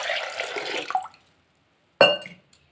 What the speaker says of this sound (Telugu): ముందుగా కందిపప్పును వాష్ చేసుకున్న తర్వాత వాటర్ వేసుకోవాలి